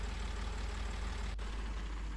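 A parked tractor's engine idles steadily close by with a deep, even rumble and no voices over it.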